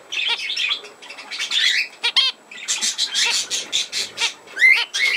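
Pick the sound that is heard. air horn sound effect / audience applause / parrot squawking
parrot squawking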